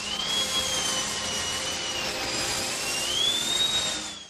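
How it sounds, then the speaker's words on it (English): A whining dentist drill sound effect in Isaac Yankem's wrestling entrance theme, a steady high-pitched shrill whine that slowly wavers up and down in pitch over a broad hissing roar, loud and continuous with no voices. "that's the sound of a dentist drill"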